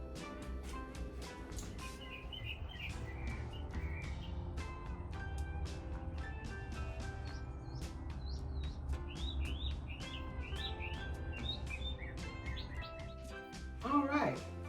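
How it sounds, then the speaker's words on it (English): Several birds chirp and tweet in quick, scattered calls over a low steady background rumble, fairly close and clear. "Did you enjoy listening to the birds?"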